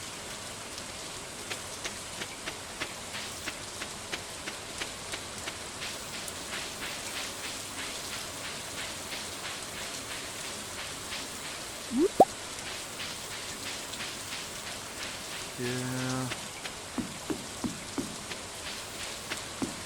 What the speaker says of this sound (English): there's just something about rain that always sounds so relaxing.